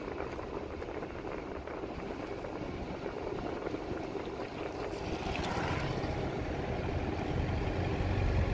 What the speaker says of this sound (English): There's a boat coming in right now.